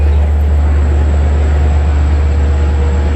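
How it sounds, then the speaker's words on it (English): A Long Island Rail Road train, probably westbound on the Central Branch, passes as a steady, loud low rumble with a constant hum from start to finish and no voices. "This is probably a westbound train here."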